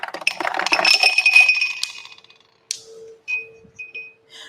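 Clinking and rattling of 1-inch round ice spheres dropping into a glass from a refrigerator's craft ice maker, a busy cluster of bright glassy clinks for about two seconds, then a few sparser, fainter clinks and a soft hum.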